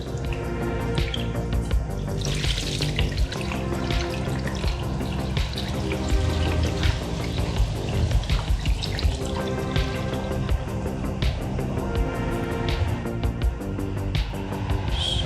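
Antifreeze leaking from beneath a Vespa GTS 250 scooter on a lift, a busy patter of drips and trickling liquid continuing steadily throughout over a low background hum.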